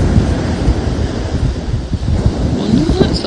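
Rain and strong wind gusting at a UK beach, a loud, steady roar with buffeting microphone rumble throughout and no clear voice.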